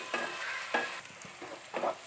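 Onions and tomato frying in a pan for a Kerala chicken curry, with a steady sizzle broken by a few spatula stirring scrapes, close and moderately loud, no talking.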